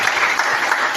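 Church congregation clapping steadily and loudly in a dense burst of applause, close and filling the space.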